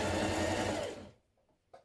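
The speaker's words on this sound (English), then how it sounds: "Now I'm stitching the bottom of my t-shirt pieces together" Sewing machine stitching the bottom of scrap t-shirt top pieces together, a close, steady motor whir lasting about a second before stopping, followed by a few soft handling clicks.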